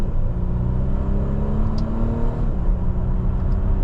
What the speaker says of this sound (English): the engine noise, I just can't get over it